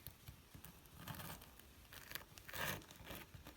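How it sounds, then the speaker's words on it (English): A serrated knife saws through baked pistachio cranberry biscotti on a cooling rack, giving faint, close crunching and scraping in a few uneven strokes, with no voices. "And then you want to take a nice serrated knife and just cut them."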